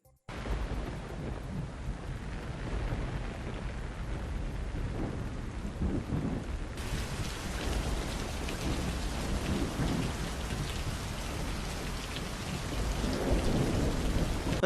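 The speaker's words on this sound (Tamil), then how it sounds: "ராமநாதபுரம் மாவட்டத்தில் பல்வேறு இடங்களில் கனமழை கொட்டி தீர்த்ததால்" Heavy rain pours steadily in Ramanathapuram district, a dense, loud hiss of downpour on surfaces with rumbling thunder underneath, continuous throughout and swelling slightly near the end, with no voices.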